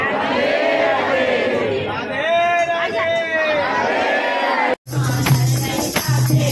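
Dense crowd of devotees waiting in a queue at a temple in Vrindavan, a steady loud hubbub of overlapping voices and chatter throughout, with a brief dropout near the end before the murmur resumes.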